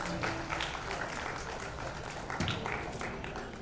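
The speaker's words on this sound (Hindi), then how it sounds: "जोरदार तालियां अमन जी के लिए।" A crowd at a felicitation event for virus warriors claps for Aman ji, moderately distant applause with a continuous hum and some background chatter mixed in.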